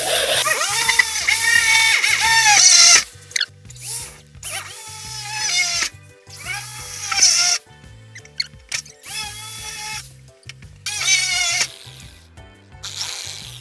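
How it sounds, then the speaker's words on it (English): A power drill whirs in several bursts, starting and stopping as it bites into a metal wall stud, with a steady low hum running underneath throughout. "Just place the drill onto the mark that I have just made."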